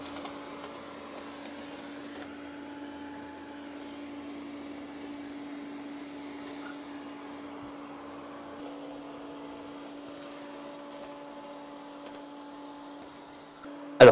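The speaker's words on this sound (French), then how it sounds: "Le robot fait tout le tour du tapis et ne montera jamais dessus tant qu'il est équipé de la serpillière." An ECOVACS DEEBOT OZMO 950 robot vacuum cleaner fitted with its mop attachment runs steadily around a rug, giving a continuous fairly quiet motor whine with a faint tonal hum and light shifting noises, ending with a brief sharp click.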